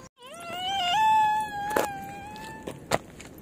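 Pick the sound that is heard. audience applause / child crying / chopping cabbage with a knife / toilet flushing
child crying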